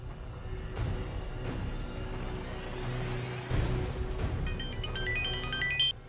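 A phone chimes with an SMS notification, a short bright run of rising beeps over a steady background hum and music in a TV drama scene.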